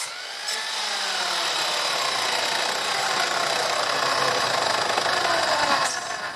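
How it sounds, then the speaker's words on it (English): A power saw cuts through wood for an 8 ft picnic table, a loud, continuous whining buzz held steady for several seconds, close by with no talking. "always let the saw get up to full speed first"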